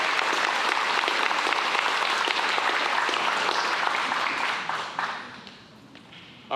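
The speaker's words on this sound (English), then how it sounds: "Let's give him one more round of applause." Dense applause from the crowd at a high school spring signing day ceremony, loud and sustained for several seconds before tapering off into quieter scattered clapping.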